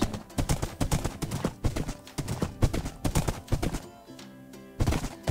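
Horse hooves clip-clop steadily in the CubeCraft video game while the player rides toward a farm, a quick repeated clatter of hoofbeats with music-like tones underneath, close and fairly loud throughout.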